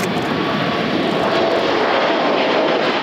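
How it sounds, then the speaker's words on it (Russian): Irkut MS-21 medium-haul airliner, a loud, sustained engine roar with a steady broadband rush, close by and heard alone. "А это уже МС-21, среднемагистральный самолет, самый востребованный в мировых авиаперевозках."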